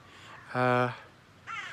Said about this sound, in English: It's like these crows above, they're just waiting for carcasses